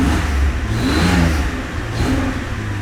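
A Toyota Soarer Z10 drift car engine revs up and drops back twice, a throaty mid-range roar close by with no voices.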